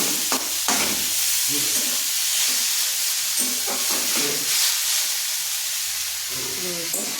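Leafy greens stir-fried in a pan make a loud, bright hiss, broken by bursts of scraping and tossing as they are turned over, close by and steady throughout.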